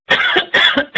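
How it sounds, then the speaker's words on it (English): A man coughs three times in quick succession, close and loud, with short gaps between the harsh bursts, during a lecture on cancer care. "Excuse me, little cough."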